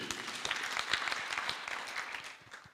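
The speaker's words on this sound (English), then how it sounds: "Can we clap for them again?" An audience at Lukenya University claps for visiting Taita Taveta leaders, a brisk run of many hands clapping at moderate distance that thins out and fades toward the end.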